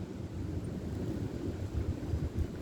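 Strong wind gusts of 50 to 60 mph ahead of an incoming snowstorm roar and buffet the microphone continuously, a dense low rumble with no voices.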